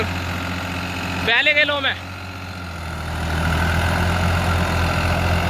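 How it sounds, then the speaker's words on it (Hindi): A New Holland 3600-2 tractor engine, a 50 hp model in economy gear, runs with a steady low rumble that grows somewhat louder, while someone briefly speaks over it near the start. "इकोनॉमी वाला गेयर लगा दिया है ट्रैक्टर का और अभी चलेगा ट्रैक्टर"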